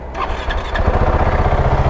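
A 2022 Husqvarna 701 Supermoto motorcycle engine starts after a brief crank, catching at once into a steady, loud, close single-cylinder idle with a rough, lawnmower-like chug.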